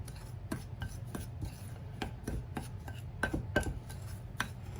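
Streusel topping being worked together in a bowl without butter, a steady scraping and crumbling rustle with irregular sharp clicks of a utensil against the bowl, close and continuous.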